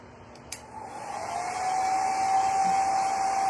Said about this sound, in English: I'm just gonna zap this really quick with the blow dryer.